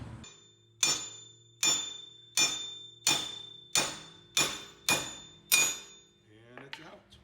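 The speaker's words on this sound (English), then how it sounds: "we get a hammer and hammer it out" Eight sharp metallic hammer strikes knock out a wheel stud on a 2007–2018 Jeep Wrangler JK at a steady, deliberate pace, each blow clanging with a bright ringing tail, followed by a few softer clinks.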